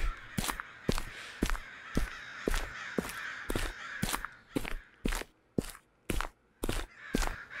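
A crow in the Japanese horror video game Okaeri caws over and over in a steady, evenly spaced rhythm, each harsh call loud and close against a quiet background.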